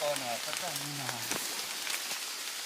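Rain falls steadily through a forest on Doi Khamo in Thailand, a soft continuous hiss with scattered drop taps, while people talk close by over it.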